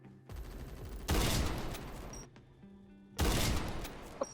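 Gunfire in the Roblox shooter Phantom Forces, fired with a secondary weapon: dense, loud volleys of rapid shots in two long bursts with a quieter stretch between, close and up front with no talking.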